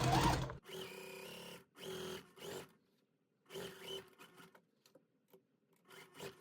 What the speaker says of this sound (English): So now I'm going to try to go ahead and sew with these still all chained together and see how that works.